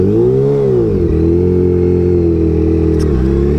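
A Kawasaki Ninja H2 motorcycle engine revs close and loud, its tone rising and falling smoothly in one sustained blip before settling into a steady throttle hold, with a brief dip near the end.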